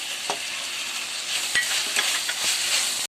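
Two tomatoes dropped into half-softened onions in a pan for egg biryani, frying with a continuous sizzle and the scrape and clack of stirring.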